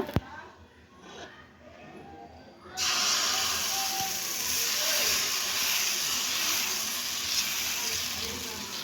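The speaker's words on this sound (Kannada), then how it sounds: "ಈಗ ಪ್ಯಾನ್ ಕಾದಿದೆ ದೋಸೆ ಹಾಕೋಣ" Wheat dosa batter hitting a hot pan starts a loud, steady sizzle that stays at an even level, with a voice speaking faintly before it.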